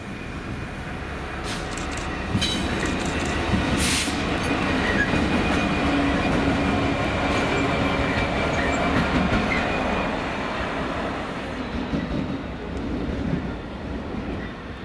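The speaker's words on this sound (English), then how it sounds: "the 1248 GBRF service to Doncaster Down Decoy GBRF from Tees Dock GBRF with 66766" A GBRF freight train hauled by locomotive 66766 rolls through Doncaster station. A continuous rumble and clatter of wagons runs through, with brief high squeals early on.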